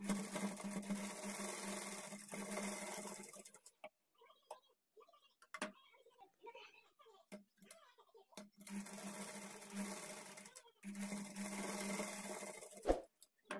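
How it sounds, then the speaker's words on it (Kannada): A sewing machine runs double stitching along a blouse shoulder seam, humming steadily close by in several sustained runs, with a quieter pause in the middle. "ಈ ಥರ ಎರಡೂ ಕಡೆನೂ ಶೋಲ್ಡರ್ ಜಾಯಿಂಟ್ ಮಾಡಿಕೊಂಡು ಇದ್ರ ಮೇಲೆ ಡಬಲ್ ಸ್ಟಿಚ್ ಹಾಕ್ಕೊಳ್ಳಿ"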